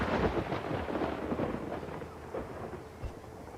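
Thunder from a storm in the strategy game Farthest Frontier, a loud rolling rumble that peaks early and fades slowly, with rain-like crackle throughout and a smaller grumble near the end, no voices.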